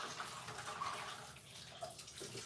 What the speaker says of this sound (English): my vegetables are in water to be washed